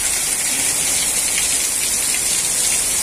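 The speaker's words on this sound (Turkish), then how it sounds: "Şu an Bartın'da yağmur bu şekilde yağıyor." Heavy rain pours without a break during a flood in Bartın, Turkey, a dense, loud, steady hiss of water hitting surfaces close by.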